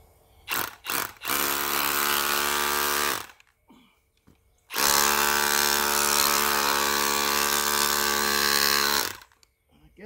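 Hammer drill boring during a trampoline tie-down install, running in two long loud steady bursts after a few short starts, close up, with a brief quiet pause between them.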